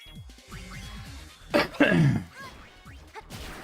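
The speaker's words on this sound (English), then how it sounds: "Cough, cough." A single harsh throat-clearing cough, close and fairly loud, followed by a shorter rasp, with faint background noise around it.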